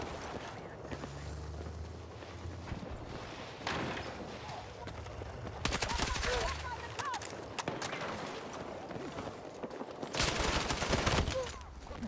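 SL9 rifle gunfire in the video game Battlefield 6, bursts of rapid shots in several clusters over a busy battle soundscape, loud and up close.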